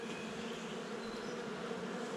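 Honeybees buzz steadily around a hive frame holding drone comb during a spring colony inspection, a dense, continuous close-up drone with no pauses and no speech.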